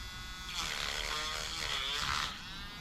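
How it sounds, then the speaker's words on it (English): A sanding wheel grinds against a Honda cylinder head during porting, a steady high whirring rasp that swells in and holds for a couple of seconds before easing off, close and fairly loud. "let's grab the sanding wheel and we'll start taking some material off"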